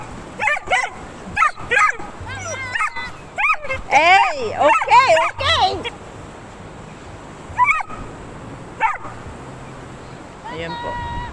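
An excited dog at a beach resort in Antique, Philippines yips, barks and whimpers in quick high-pitched bursts, close and loud, while people call out around it and a low murmur of background noise continues.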